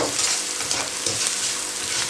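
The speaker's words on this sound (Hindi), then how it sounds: "चंद सेकंड के लिए आपने पकाना है इनको कि मिर्चें अच्छी तरह से पक जाएं।" Green chillies and spices fry in hot oil for moong dal khichdi, a loud, close, continuous sizzle with crackling pops and faint stirring scrapes throughout.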